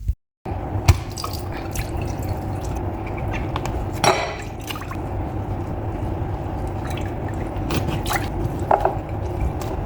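Grape leaves are washed under running water for a stuffed vine leaf dish, with a steady close splash and trickle and a few drips and clinks throughout.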